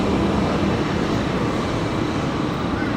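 Airliner rolling off the runway at Brisbane Airport, a steady broad roar of engines and rushing air, loud and unbroken throughout.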